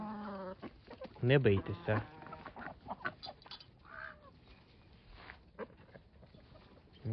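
Chickens cluck and squawk at close range in a farmyard, with a burst of louder calls early on, while someone speaks over them in Ukrainian.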